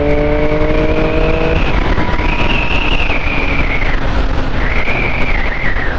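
A car engine at full throttle in sixth gear, pulling hard on a highway, its loud, steady roar backed by a rising and falling whine with continuous wind rush, and no voices.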